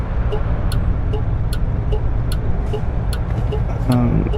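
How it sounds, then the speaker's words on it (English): Regular ticking of a Mustang's turn signal relay in the video game American Truck Simulator clicks along over a continuous engine and road rumble inside the vehicle. "that blinker has like a switch relay sound to it"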